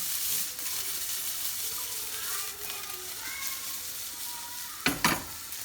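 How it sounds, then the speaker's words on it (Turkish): Salmon sautéing in a pan, giving a steady, loud sizzle and frying hiss the whole way through, with faint stirring and a brief clatter near the end. "Nar gibi kızarıyorlar ya."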